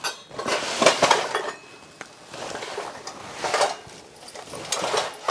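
Metal utensils and dishes clatter and clink in a rural household kitchen, with repeated bursts of scraping and knocking of pots and pans at close range, no talk over it.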